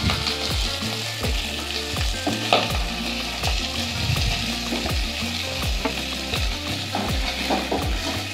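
Fish heads fry in oil in a wok, giving a steady loud sizzle. Repeated scraping stir strokes cut through it in a regular rhythm, with no voices.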